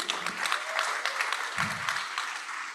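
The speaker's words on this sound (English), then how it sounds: "the clapping goes to the state Senate" An audience at a gala dinner claps, a lively patter of many hands with distinct sharp claps near and far, continuing steadily throughout with a brief low rumble partway.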